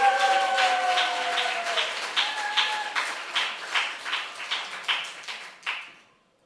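A church family-service congregation claps in welcome for a newly debuting reporter, a steady wash of applause with rhythmic, pulsing claps that fade out at the end, over a sustained tone early on.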